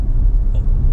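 An Audi RS6 Performance engine gives a deep, loud low-frequency rumble that swells briefly under throttle, heard close with no voices.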